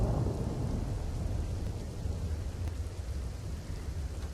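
Heavy, steady rain pours down across South Gujarat, a dense continuous wash with low rumbling thunder underneath, loud and unbroken throughout with no voices.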